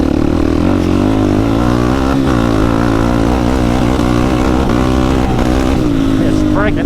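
A Suzuki LTZ 400 ATV engine revs hard and loud up close, its high-RPM drone wavering and stuttering as it breaks up, with wind buffeting throughout.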